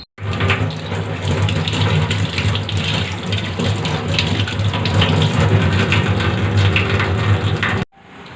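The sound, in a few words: water poured into a cooking pot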